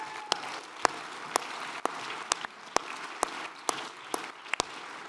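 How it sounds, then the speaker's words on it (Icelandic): A hall audience at a party congress claps steadily and evenly, with a dense wash of hands and a few louder individual claps standing out, heard at a moderate distance with no talking. "Við höfum að gefa þeim gott klapp."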